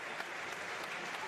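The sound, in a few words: applause from both sides of the basketball crowd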